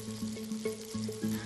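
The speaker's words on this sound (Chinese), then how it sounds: "葱段入油炸至" Scallion pieces frying in hot oil give a soft, bubbly sizzle with light crackles and small pulsing bursts, heard close and quiet.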